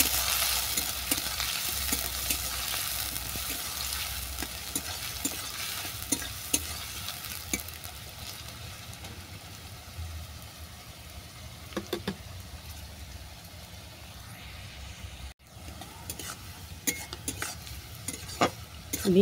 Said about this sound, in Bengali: দিলাম গাজর কুচি, বিনস আর গাজরটা ভালো করে ভেজে নিচ্ছি।